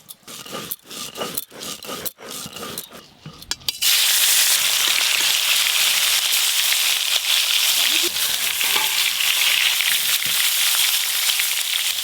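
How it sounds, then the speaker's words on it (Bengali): Salted, turmeric-coated snakehead fish pieces drop into hot oil in a pan and burst into a loud, continuous sizzle that follows a few seconds of scraping and clatter near the microphone. "মাছ কম আছে তাই একসঙ্গেই ভাজা হয়ে যাবে"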